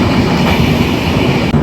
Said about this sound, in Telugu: మన ట్రైన్ పక్క నుంచి ఒక గూడ్స్ ట్రైన్ అయితే పాస్ అవుతుంది